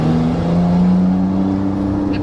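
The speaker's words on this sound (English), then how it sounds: "I'm gonna get into second gear once I get rolling" A manual-transmission car accelerates from a roll on a winding road, a loud close engine hum climbing in pitch and stepping down briefly as it shifts up through the gears.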